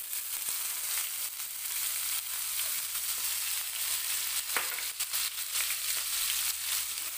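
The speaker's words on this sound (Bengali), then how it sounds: "পেঁয়াজগুলো আমি লাল লাল করে ভেজে নেব" Onions fry in oil seasoned with Bengali five-spice, a steady crackling sizzle with occasional light pops and stirring scrapes, moderately faint throughout.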